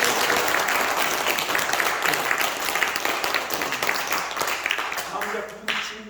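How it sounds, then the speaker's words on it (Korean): Sustained applause from an audience at a traditional Korean dance performance, dense steady clapping filling the hall for several seconds before easing slightly at the end. "박수 한 번 더 주세요."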